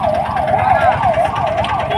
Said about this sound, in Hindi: अभी अभी एम्बुलेंस आया है